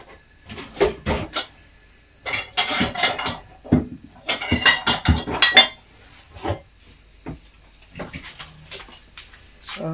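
A baking dish lifted out while making a cheesy leek and potato pie, with clinks of dishes and cutlery, scattered knocks and a few brief sounds like short spoken remarks.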